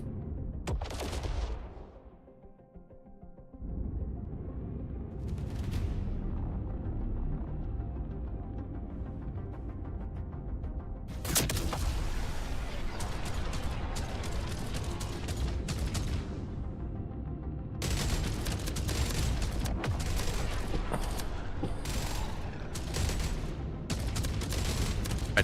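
Turrets in the Minecraft video game fire in long, dense bursts of rapid shots over a low throbbing hum, with the firing loud and close. Brief pauses and gaps break up the sustained barrage.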